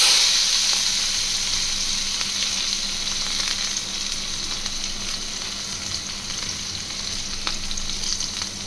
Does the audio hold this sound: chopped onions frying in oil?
yes